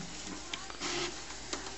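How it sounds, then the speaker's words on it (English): Close-up whirring of an HP Photosmart D5160 inkjet printing, with a short motorized sweep in the middle and a couple of sharp clicks from the mechanism. "You can see everything's printing perfectly fine."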